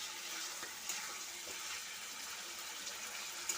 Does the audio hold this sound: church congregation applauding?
no